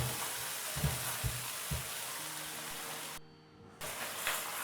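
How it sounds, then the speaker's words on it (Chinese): Sauce poured into a hot wok of stir-fried beef and garlic slices, with a dense bright sizzle throughout, a few low knocks early on, then a brief drop to near quiet before the hiss returns, close by. "再倒入刚才调好的料汁"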